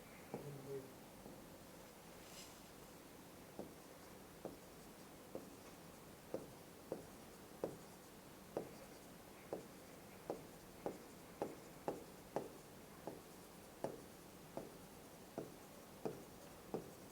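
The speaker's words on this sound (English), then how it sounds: "I am going to draw one diagram of pollen tube." A pen writes and draws a pollen tube diagram for a botany lesson, giving a faint, regular series of short taps and strokes in a quiet room.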